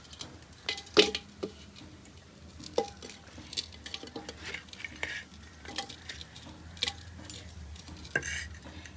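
Pieces of goat meat go into a clay cooking pot already holding onion, garlic, ginger and spices, with scattered knocks, scrapes and stirring clatter over a faint, soft sizzle, close and fairly quiet.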